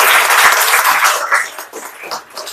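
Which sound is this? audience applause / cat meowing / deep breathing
audience applause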